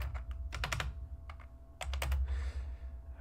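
Fingers tapping on a computer keyboard in quick clustered bursts of crisp clicks with short pauses between, close to the microphone and without speech.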